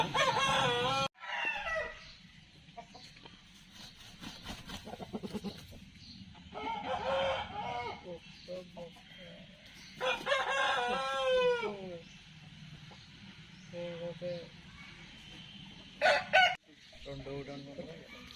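A rooster crows several times near at hand, mixed with clucking and other farmyard calls in a fairly quiet setting.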